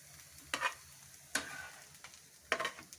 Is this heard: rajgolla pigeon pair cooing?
no